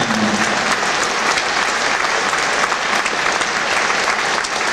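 A crowd at the Blackpool Tower gives sustained, loud applause for a musical entertainer after his show, a dense, continuous roar of clapping with no talk over it.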